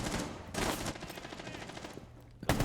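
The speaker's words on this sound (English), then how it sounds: "Gunfire being traded off, back and forth." Rapid gunfire traded back and forth in a Rainbow Six Siege match crackles in dense, fairly quiet bursts, with a sharper shot breaking through near the end.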